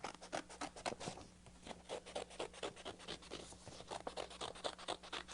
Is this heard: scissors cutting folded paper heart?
yes